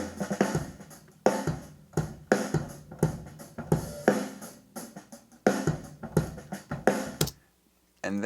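Drum kit tracked with a heavy low-end EQ boost of about 6 to 9 dB at 50 Hz, playing a steady groove of punchy, booming hits with sharp attacks and decaying tails, then stopping abruptly near the end.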